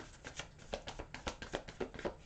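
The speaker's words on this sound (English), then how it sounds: "one more shuffle for Leos, please" Tarot cards being shuffled by hand in quick repeated riffles and slaps, a steady run of close, crisp bursts with no talking.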